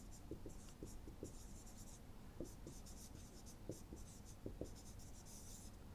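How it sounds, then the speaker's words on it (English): Marker or chalk strokes on a classroom board, a quick series of short scratchy squeaks and taps in uneven bursts, close and clear with no talk over them. "So, I will just write it here."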